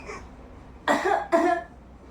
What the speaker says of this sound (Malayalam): ചുമച്ചേ